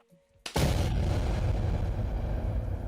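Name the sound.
explosion sound effect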